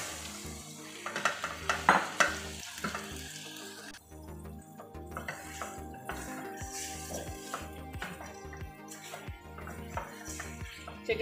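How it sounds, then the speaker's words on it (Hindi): Chicken being fried and stirred in a pan for chicken paneer handi, with steady close sizzling under scattered spoon scrapes and clatters against the pan, a busier clanking burst early and continuous frying throughout. "चिकन का जब तक कलर चेंज नहीं हो जाता जब तक हम इसको इसमें भून लेंगे अच्छे से"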